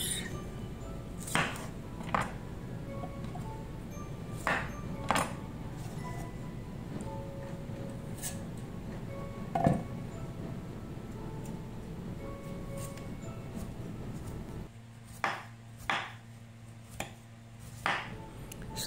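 A knife cuts peeled avocado into cubes on a board, making soft, sparse taps against a steady low background hum, with a quicker run of cuts near the end.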